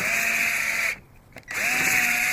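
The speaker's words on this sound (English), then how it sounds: "I'll use a drill with like a circular, sanding pad, and I'll just go like this and rough it" A drill fitted with a circular sanding pad whirs steadily at high speed while roughing up snap plates, cutting out briefly in the middle and then spinning back up, close and loud.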